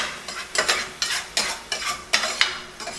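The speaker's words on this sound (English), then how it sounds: "as you can see, I have the vegetables, the aromatics sweating" Aromatic vegetables sweat in olive oil in a pan while being stirred, giving a soft steady sizzle broken by about eight brisk scraping strokes that come in an irregular rhythm, close and fairly quiet.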